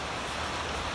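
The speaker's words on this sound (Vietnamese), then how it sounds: "đang mưa khá là to." Heavy rain pours steadily outdoors during a cold spell, a dense, even hiss that fills the whole moment with no pauses or voices.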